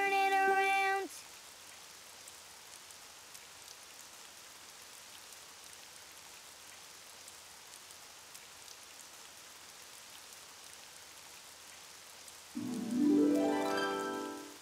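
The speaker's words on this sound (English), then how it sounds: "Oh, it's raining outside." Rain falling outside in a Daniel Tiger cartoon: a soft, steady patter of drops runs throughout at low level, framed by short musical tones at the start and a voice near the end.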